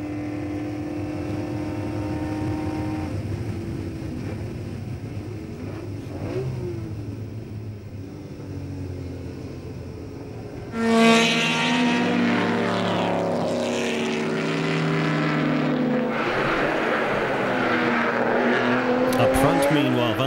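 Classic race cars lapping Spa, including a Ferrari 250 GT Berlinetta, with a steady engine drone that swells into a loud, close pass of revving engines in the second half, sustained to the end.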